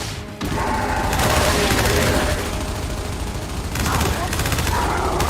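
Sustained gunfire from a weapon in the video game Gears 5, rapid automatic bursts that continue almost without pause, loud and close, with voices speaking over it.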